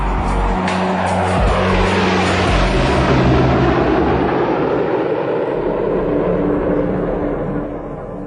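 A B-2 stealth bomber roars past in one loud, continuous jet sweep. The rushing engine noise swells and slowly fades, with no voices over it.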